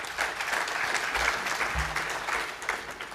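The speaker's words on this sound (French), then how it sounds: "Merci de les applaudir, s'il vous plaît." An audience applauds the organisers at the closing ceremony of a national political dialogue, steady full clapping filling the room throughout, with no talking over it.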